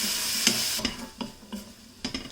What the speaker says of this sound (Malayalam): അപ്പോൾ എല്ലാം കൂട്ടിയിട്ടൊന്ന് വഴറ്റി കൊടുക്കാം.